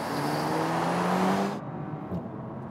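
A 2019 Bentley Continental GT, a 2.5-ton car, accelerates hard from 50 toward 100 mph, a loud sustained engine and road roar with a rising tone that cuts off abruptly, leaving quieter cabin rumble.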